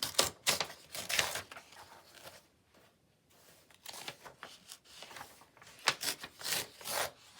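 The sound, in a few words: tearing pages out of an old book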